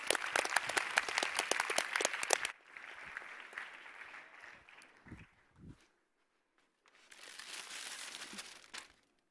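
Audience applause at a conference event in Malmö starts as dense, fairly close clapping, then thins and fades to scattered claps and rustling before a second quieter burst of clapping rises toward the end.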